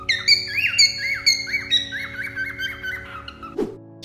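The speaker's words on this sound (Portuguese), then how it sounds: "Conversa, pelo menos, como aqueles pássaros na internet." A bird from an internet clip whistles and chirps in quick, varied pitched phrases, clear and close, ending with a short harsh squawk; no talk.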